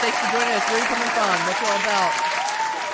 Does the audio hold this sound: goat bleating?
no